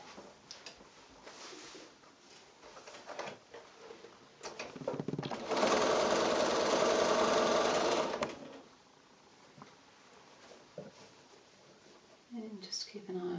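A sewing machine runs a quilt block seam for a couple of seconds in one steady loud burst, with quieter handling sounds and a soft voice before and after.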